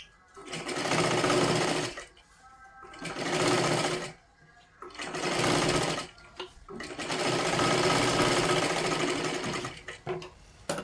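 A sewing machine stitches a seam on a princess-cut blouse in loud, steady bursts of running about two seconds each, separated by short pauses, with a longer continuous run near the end.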